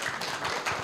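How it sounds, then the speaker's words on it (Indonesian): Audience clapping for Pak Hendy at a community dialogue event in Semarang, a short burst of scattered hand claps at moderate volume. "boleh kasih tepuk tangan dulu untuk Pak Hendy?"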